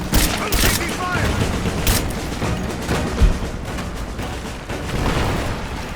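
Gunfire crackles in a Rise of the Tomb Raider battle, with dense overlapping shots and booms under shouted combat voices, loud and continuous.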